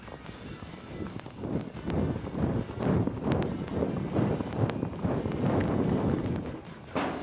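A mare gallops in a reining rundown, her hooves striking the arena ground in quick, rhythmic clip-clop beats over a rushing background.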